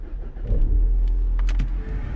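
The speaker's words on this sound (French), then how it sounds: "C'est quoi qu'on a loué? Ford Mustang. Une Ford Mustang. Allez, on va la démarrer en direct." A Ford Mustang rental car's engine starting up, then settling into a loud, close, throaty idle with a slight rev.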